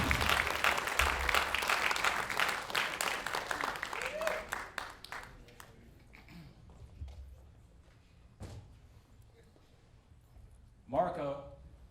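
Live comedy club crowd applauding for a stand-up comedian, dense clapping that fades after a few seconds, followed by a brief scattered burst near the end.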